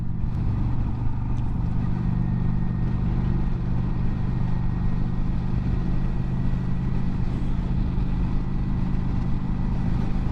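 A Kawasaki Vulcan 900 motorcycle cruising on the freeway, its engine a steady low droning buzz blended with wind and road roar, continuous and loud throughout with no talking.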